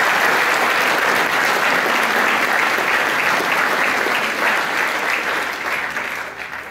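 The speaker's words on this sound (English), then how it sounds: "the staff and Bruce deserve a round of applause for that" A school audience at a senior prize giving applauds the staff, a dense, loud round of clapping that holds steady for several seconds and then begins to fade.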